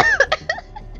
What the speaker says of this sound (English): Why are they coughing?